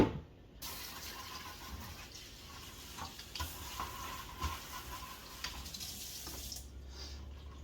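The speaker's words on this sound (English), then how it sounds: "Rinse off my cutting board." Tap water runs steadily into a kitchen sink while a cutting board is rinsed under it, a continuous close splashing wash with small clatters, no talk, fading as the flow shuts off near the end.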